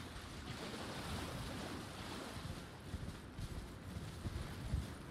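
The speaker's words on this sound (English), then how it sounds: "it's just the waterfall that we just passed" Steady rushing water from a waterfall in the video game Elden Ring Shadow of the Erdtree, a broad continuous roar with slight swells, heard alone without talk.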